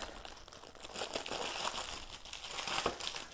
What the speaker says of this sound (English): I love that crinkle.